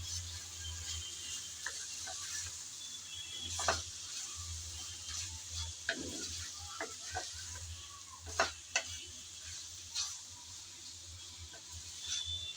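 Taro stolons and mustard paste being stirred in a pan, with soft scraping and stirring sounds and a few sharper utensil clicks over a faint steady sizzle and low hum, no talking.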